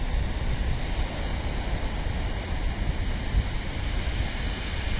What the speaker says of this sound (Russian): Так вот, классные такие волны.